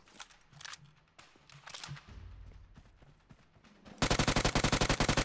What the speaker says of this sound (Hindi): लेकिन भाई तभी राइट साइड से गोलियों की आवाज आई